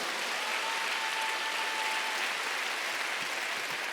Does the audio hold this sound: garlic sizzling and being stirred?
no